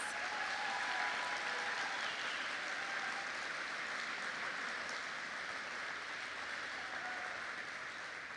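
Sustained applause from a graduation audience at a class of 2023 robing ceremony, a steady, fairly faint wash of clapping heard from a distance that tapers slightly toward the end.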